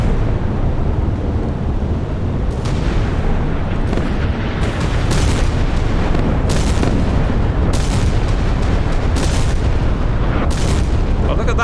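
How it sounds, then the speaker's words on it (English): Repeated heavy booms and bursts roll over a dense, continuous rumble of naval battle noise in a video game pitting a US arsenal ship against Soviet warships, loud and close throughout. "we're certainly seeing a lot of explosions today"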